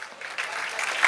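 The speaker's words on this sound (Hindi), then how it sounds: "गुड, तालियां" A workshop audience applauds, a short burst of dense clapping at moderate volume that swells partway through and continues to the end.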